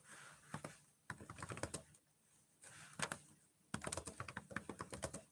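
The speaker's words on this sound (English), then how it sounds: "I'm going to type that up real quick too" Rapid keystrokes on a computer keyboard clatter in three quick bursts separated by short pauses, close and fairly quiet, with no talking.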